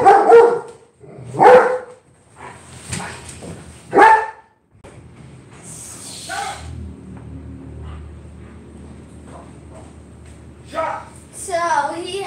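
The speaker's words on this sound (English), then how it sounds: "he has the loudest bark in the earth" Dog barking loudly, four sharp, booming barks close by in quick succession, followed by quieter whimpering and a low hum, then a couple more yelps near the end.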